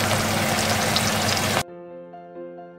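Garlic and ginger paste fries in a pan for a Pakistani-style achaari chicken, giving a bright close sizzle for about a second and a half before it cuts off abruptly to soft background music.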